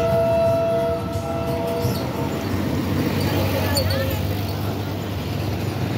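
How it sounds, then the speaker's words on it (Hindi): An RGU20-led passenger train passing near Sukkur, Pakistan, a steady rolling rumble of wagons with a horn blast at the start, close and loud, while someone speaks over it. "लोकोमोटिव लीड कर रहा है।"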